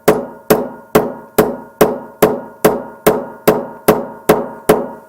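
A light hammer tapping a punch to drive out an AR-15 firing pin, twelve evenly spaced metallic taps close by at a steady rhythm, with no talk.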